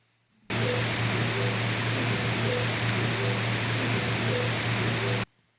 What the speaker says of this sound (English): So here's my white noise.